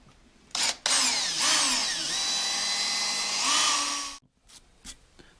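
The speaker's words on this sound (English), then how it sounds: "we'll start like with an 1/8 inch drill bit and just start drilling down through that broken off part of that bolt" A power drill with a 1/8 inch bit bores a pilot hole into a broken-off bolt in a steering bolster casting, a loud, steady whine with shifting pitch lasting several seconds, then stopping abruptly, close up.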